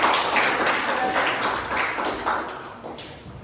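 A class of students clapping their hands together after a remark during a lesson, a dense, steady patter of overlapping claps that fades slightly toward the end.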